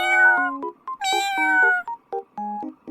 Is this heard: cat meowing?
yes